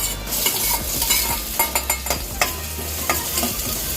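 Chopped garlic, about an inch of ginger and two green chillies sizzle and fry in a hot pan, with a steady frying hiss broken by scraping stirs and light clinks of a spoon against the metal.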